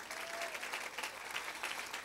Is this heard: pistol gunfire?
no